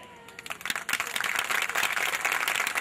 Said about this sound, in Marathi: बायांनी टाळ्या वाजवल्या